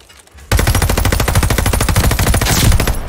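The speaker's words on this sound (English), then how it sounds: "It looked kind of like a Tommy gun." A Tommy gun-style machine gun firing in Call of Duty, a loud, close, sustained burst of rapid evenly spaced shots that starts abruptly after half a second of quiet and runs to the end.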